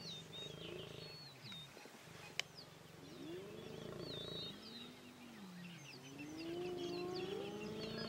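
Lions and hyenas interacting in the wild, with repeated high squeals and whining calls over low lowing and growling tones, some faint birdsong, and one sharp click partway through.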